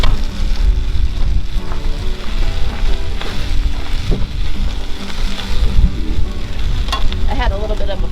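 Eggs fry in a pan over a campsite cookfire, hissing and crackling steadily up close with scattered pops and light scraping, a faint breeze in the background.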